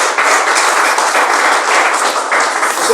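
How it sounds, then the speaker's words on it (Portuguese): A church congregation claps steadily together during a worship service, a loud, dense and continuous round of applause that holds at an even level for about three seconds. "Palmas novamente para o Senhor."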